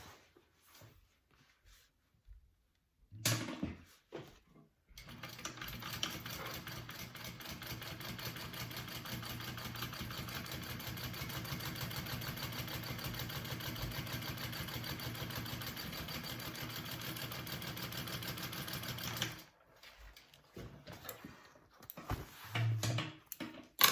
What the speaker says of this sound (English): we are going to do a second line of top stitching right here to kind of connect the two